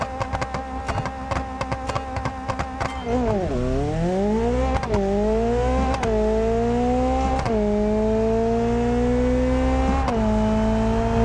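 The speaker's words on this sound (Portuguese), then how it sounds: "Deixa eu já ligar meu nitro." Turbocharged VW Beetle in a BeamNG racing game with nitro engaged, a loud, continuous buzzing engine note that revs and sweeps upward and holds high with gear changes, close and steady, with no voices.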